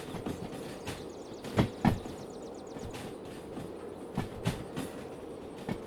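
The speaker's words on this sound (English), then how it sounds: "I'm gonna try to slow down so that we don't blow up our train." A freight train rolling along in the video game Derail Valley, with a steady rumble punctuated by rhythmic clickety-clack wheel thumps over rail joints, two strong knocks early and lighter ones later, no voices.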